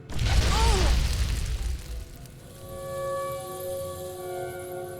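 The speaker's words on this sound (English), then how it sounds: "Attempting to turn it on results in explosion." An oven blows up in Fallout 3's kitchen with a loud, rumbling blast lasting about two seconds, then a quieter ringing, crackling tail as the noise dies down.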